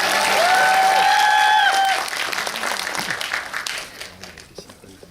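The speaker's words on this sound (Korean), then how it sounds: "다시 한번 큰 박수로 맞이하겠습니다" A cinema audience at a film Q&A screening greets the director and cast with loud applause and some cheering, strong at first and then thinning and fading away.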